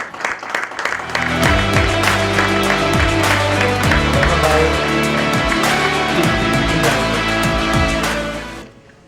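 An audience at a CREDAI-MCHI Youth Wing session gives a sustained round of applause to welcome the Dream11 co-founder on stage, loud dense clapping that swells quickly, holds steady and stops abruptly near the end.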